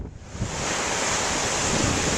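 Ocean surf breaking at a surf contest in Puerto Sandino, Nicaragua, under hard offshore winds: a steady, loud wash of rushing water and wind noise that swells in after a quieter start and holds to the end.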